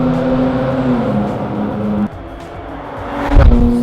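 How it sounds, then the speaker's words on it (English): Jaguar F-Pace S SUV exhaust echoing inside a tunnel: a loud, close, steady engine drone with harmonic tones that shifts pitch midway, then a brief louder burst of revs near the end. "And it makes an even better noise when you find a tunnel."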